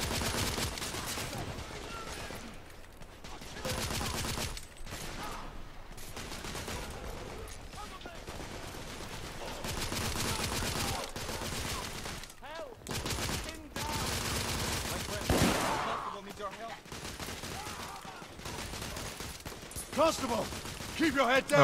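Sustained gunfire in The Order: 1886, a dense fusillade of overlapping shots and bursts running almost continuously and loud throughout, with brief lulls, under intermittent talk.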